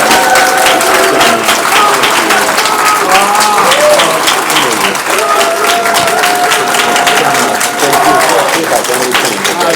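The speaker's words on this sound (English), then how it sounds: "everybody, please give Doug a big round of applause" A large convention audience applauds creature performer Doug Jones at a panel, loud continuous clapping with cheering and voices rising through it across the whole stretch.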